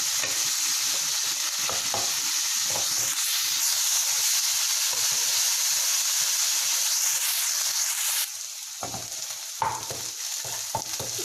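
Chicken sizzles steadily in a pan over medium heat, a bright continuous frying hiss with occasional stirring scrapes, easing slightly toward the end.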